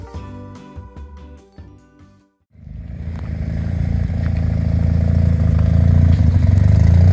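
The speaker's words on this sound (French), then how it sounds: "T'entends le bruit du ralenti, ça fait déjà peur quoi." After a short stretch of music, a gymkhana car's engine settles into a loud, close, rough idle, a steady low rumble that grows slightly stronger and holds to the end.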